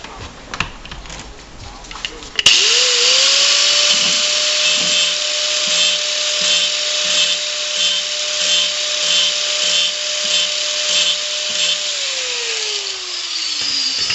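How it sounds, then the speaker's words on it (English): A power grinder spins up with a clunk and whines steadily while grinding down washers or spacers for a cable install, loud and close, then winds down near the end. "You could use any grinder to break that down some."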